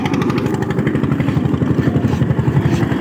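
An Eicher tractor engine is revved at full throttle during a field demo, giving a loud, steady, close rumbling drone with a rapid pulsing beat and no letup.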